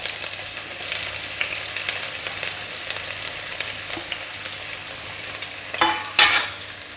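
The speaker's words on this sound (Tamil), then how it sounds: "இது கொஞ்சம் ஃப்ரை பண்ணிக்கலாம்." Ginger, garlic and green chillies sizzle and crackle in hot oil, with stirring scrapes and a couple of louder bursts of sizzling near the end.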